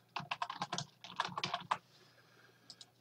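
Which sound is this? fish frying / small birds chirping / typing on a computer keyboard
typing on a computer keyboard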